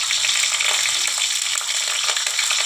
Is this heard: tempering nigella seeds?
yes